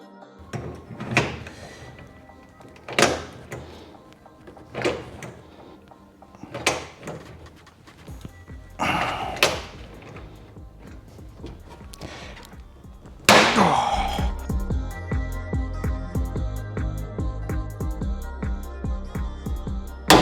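A manual hand rivet gun sets rivets during a Land Rover Defender restoration: a series of sharp, close snaps lands roughly every two seconds, then a louder, steadier broadband noise takes over for the final stretch.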